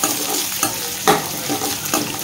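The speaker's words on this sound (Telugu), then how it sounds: "ఇప్పుడు వీటిని మంచిగా ఫ్రై చేసేసుకుందాం" Carrot, onion, green chili, garlic cloves and chana dal frying in a pan, stirred with repeated scraping strokes over a steady close sizzle, with no talk.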